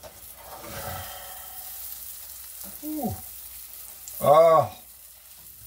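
Tuna and eggs fry in a pan with garlic, giving a steady, soft sizzle throughout, with a brief exclaiming voice near the end.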